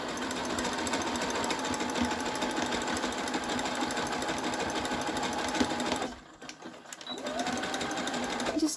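A sewing machine runs steadily while stitching a yarn cozy from soft fabric, loud and close for about six seconds, pauses briefly, then starts up again near the end.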